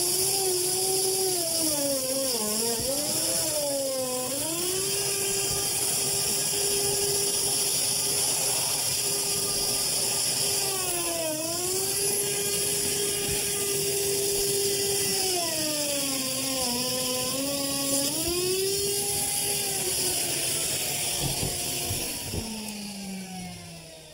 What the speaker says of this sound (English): now I'm going to use my plunge router with a flush cutting bit